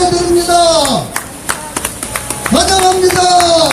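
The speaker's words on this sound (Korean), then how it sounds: "박수를 보내드립니다." Audience at a 2017 press conference in Seoul backing acting president Hwang Kyo-ahn breaks into scattered clapping, mid-level and fairly close, with speech before and after the applause.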